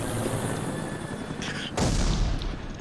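Gunfire in the Roblox game After the Flash: Overcast during a Vietnam War event, a steady din of shooting with a sudden heavy blast partway through and continued rumbling fire afterward.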